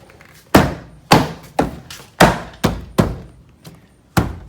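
A Honda Civic door panel is banged into place on a 2006–2011 Civic: eight sharp, loud thumps at uneven intervals of roughly half a second, each decaying quickly, close by with no talk.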